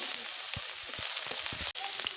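Chopped tomatoes fry in hot oil with cardamom and dried chillies, giving a steady close sizzle throughout with a few soft stirring knocks.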